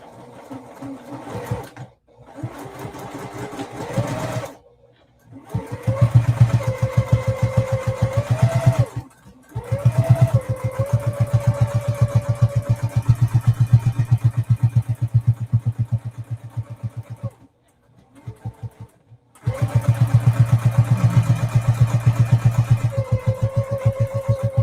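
Embroidery sewing machine stitching an in-the-hoop mini sampler quilt block, rapid loud mechanical needle clatter in long bursts separated by brief pauses, with a whirring motor pitch rising as each run starts.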